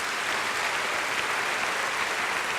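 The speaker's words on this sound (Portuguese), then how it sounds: "Dê um aplauso ao Senhor bem forte pela sua vida" Congregation at a Cristo Vive church service applauding loudly, a dense, steady wash of many hands clapping throughout with no voices standing out.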